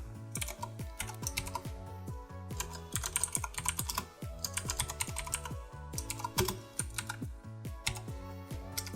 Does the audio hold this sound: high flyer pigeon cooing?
no